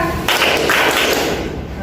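A group in a counseling session claps out a short patterned rhythm together, the sharp close claps layered with voices chanting along throughout.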